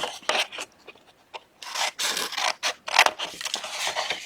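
Scissors snip and rasp through paper to miter the corner of a handmade gift box, a close run of repeated crisp cuts and scraping rustles.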